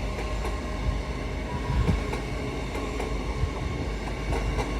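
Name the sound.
LNER train passing at York station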